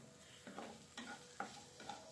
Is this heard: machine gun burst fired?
no